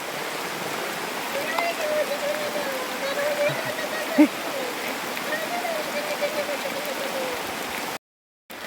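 Heavy rain falls in a steady, dense wash from start to finish, with a faint low voice murmuring underneath and one brief knock near the middle before the sound cuts out just before the end.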